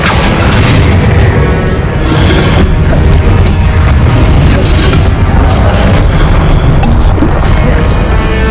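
Confringo fire spells in the Hogwarts Legacy video game burst into loud, close explosions, a relentless series of booming blasts and crashes layered densely over one another with no pause.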